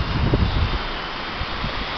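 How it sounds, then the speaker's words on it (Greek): Wind gusting outdoors during a quadcopter test flight, a steady broadband rumble with buffeting low thumps at the start, continuous and fairly close with no talk. "Φυσικά υπάρχει και αέρας"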